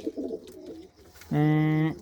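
Racing pigeons, two cocks and a hen, give a few low burbling coos up close, followed by a loud, steady held tone near the end.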